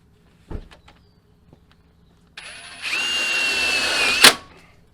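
A power drill drives tech screws into a Relentless Fabrication hybrid bumper, a loud steady whine of about a second and a half that ends in a sharp clunk, after a few quiet taps.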